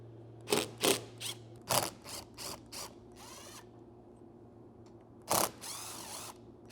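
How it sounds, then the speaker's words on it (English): A ratchet with a 12mm socket clicks in short bursts while removing roof rail bolts on a Toyota 4Runner, close up, with a few sharper metallic clacks and a faint steady hum underneath. "you can go ahead and remove the rails with the 12mm socket"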